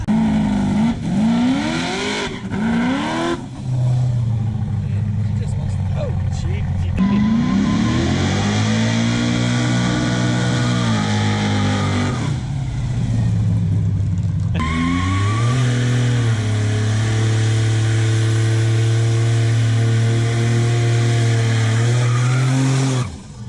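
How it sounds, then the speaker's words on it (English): A car does tire burnouts in a makeshift burnout box, its engine revving hard with long stretches of loud, sustained tire squeal and skidding that drop briefly between pulls, close and continuous throughout. "This is the sketchiest burnout box I've ever seen in my life."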